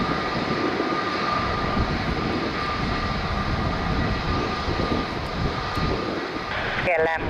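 Boeing 767 taking off at Lisbon Airport, a broad, steady jet engine roar holding at constant loudness throughout, with voices talking over it.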